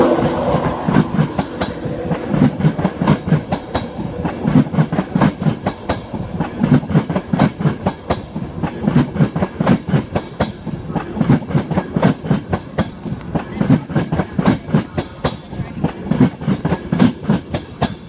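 A Class 91 electric locomotive-hauled train (91124 with driving van trailer 82215) rolls into platform 3 at Newark North Gate station, its wheels beating a regular clickety-clack rhythm over the rails at a close, fairly loud level throughout.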